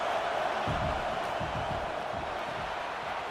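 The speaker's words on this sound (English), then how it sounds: "This crowd bringing the energy and noise early." A stadium crowd at a football game gives off a steady, loud roar of cheering and noise, with a few low thuds underneath. It runs continuously throughout.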